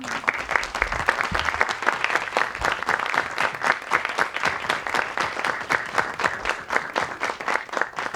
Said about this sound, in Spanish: pido un tremendo aplauso para Tania Quiroz